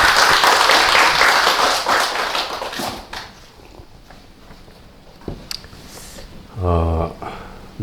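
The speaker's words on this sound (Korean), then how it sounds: "우선 박수 한번." Audience applause at a book talk held by a spiritual reading club: dense, loud clapping fills the first three seconds, then fades into quiet room tone, with a brief voice near the end.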